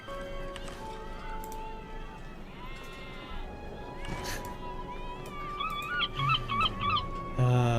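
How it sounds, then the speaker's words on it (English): Sheep bleats in the online role-playing game Lord of the Rings Online, a few wavering, nasal cries rising over layered game music and effects, with a louder cluster of bleats near the end. "the sheep that started it all"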